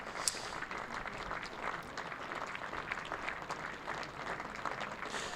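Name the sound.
applause for a dismissed batsman at a cricket match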